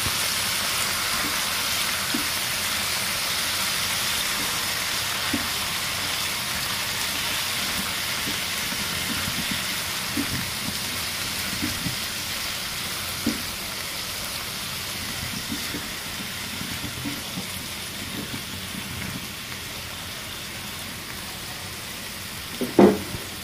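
Bitter gourd and potato sizzle steadily in a pan as they are stirred with spices, a continuous frying hiss with soft scraping knocks from the stirring and one sharper clatter at the end.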